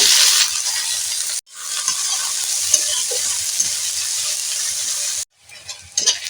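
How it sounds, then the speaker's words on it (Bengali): Chopped onions and green chillies with five-spice seeds frying in hot oil, a steady loud sizzle broken by two brief pauses and some scraping stirs near the end. "পেঁয়াজটা ভাজা ভাজা হয়ে গেছে"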